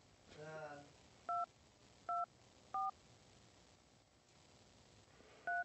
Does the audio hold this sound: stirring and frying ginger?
no